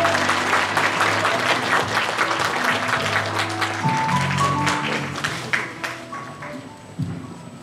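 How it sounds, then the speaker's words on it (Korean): Sustained audience applause fills a book concert and publication celebration in Sejong, dense clapping throughout that thins toward the end, with scattered individual claps standing out. "큰 박수 부탁드립니다."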